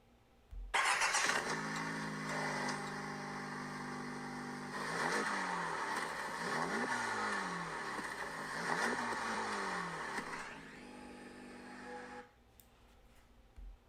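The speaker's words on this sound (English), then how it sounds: "here is a short audio clip from the stock exhaust" A 2023 Honda Civic Type R with its stock exhaust starts up sharply and idles close by, then several quick revs rise and fall before the engine shuts off.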